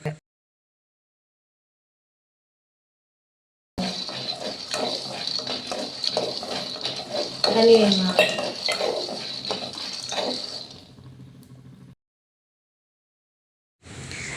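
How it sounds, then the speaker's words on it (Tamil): Peanuts dry-roasting in a pan and stirred continuously, a steady run of scraping and light rattling with soft clinks of a utensil against metal, close and moderately loud, with silence before and after. "ஒரு 5 மினிட்ஸ் வந்து கைவிடாமல் நல்லா செவக்க வறுத்துட்டே இருங்க"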